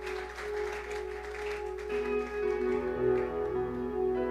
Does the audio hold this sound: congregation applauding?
yes